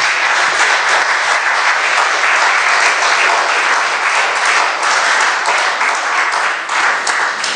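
A church congregation applauds to acclaim the Lord, with dense, loud and steady clapping from a large crowd that goes on without a break and drowns out any voices.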